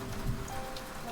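Steady rain falls on surfaces at night in a dense, even patter with a constant wash of drops and no talking.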